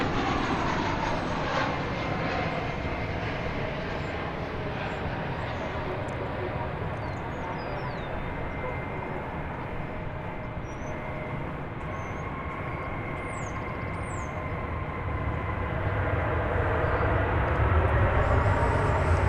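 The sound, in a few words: American Airlines plane arriving from Milwaukee at DFW Airport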